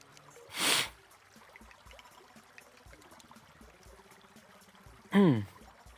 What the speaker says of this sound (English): I have the sniffles